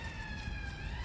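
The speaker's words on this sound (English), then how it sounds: "Stupid sirens." Emergency sirens in the streets of Bodmin, Cornwall, sound as a steady, moderately loud wail heard alone over outdoor wind.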